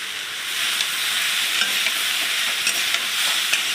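Raw banana pieces frying in a pan, a steady close sizzle with scraping, clicking spatula strokes as the vegetable is stirred, no voices.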